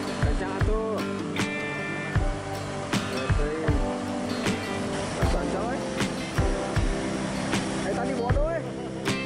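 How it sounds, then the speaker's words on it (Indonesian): A Gemac WD-350 II track stabilizer machine moves along railway track on a high-speed rail line, giving a steady mechanical drone with repeated metallic clanks and knocks at irregular intervals, fairly close. "mesin stabilizer Gemac WD-350 kembali bergerak ke arah barat untuk melakukan aktivitas di jalur 2"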